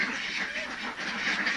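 Domestic ducks kept for egg laying quack in a steady close chorus over continuous farmyard background noise, with no voices.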